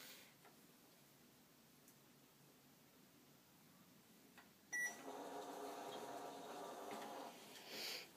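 A household microwave oven hums steadily at a low level after a soft click, then a louder run with a brief beep near the end; quiet room background, no talking.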